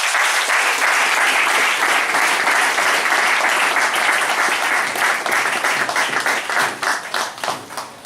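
A church congregation applauds loudly and steadily for several seconds. The clapping thins toward the end into distinct, separate claps.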